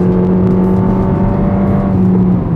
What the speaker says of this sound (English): So now if you want to overtake somebody, okay? I'm overtaking. Change gear, change gear.